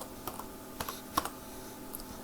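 Faint, sparse key clicks from someone typing on a computer keyboard, a few light taps spread out in a quiet room with no talking.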